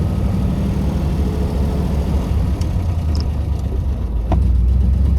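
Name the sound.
V8 car engine idling, dual exhaust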